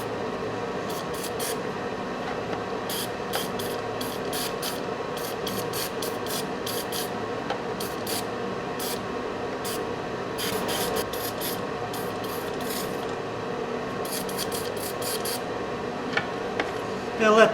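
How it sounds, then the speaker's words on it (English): Seafoam cleaner sprayed onto the carburetor of a Polaris Ranger 500, many short close hissing bursts in irregular succession over a steady background hum. "I'm going to spray this down with some seafoam."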